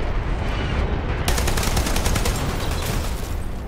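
Rapid automatic gunfire strikes a deployable shield in the shooter Dirty Bomb, a dense loud burst of fast repeated shots that starts abruptly and rattles on continuously.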